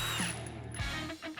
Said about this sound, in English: Once we've done that, we're gonna take a 30mm and remove the castle nut.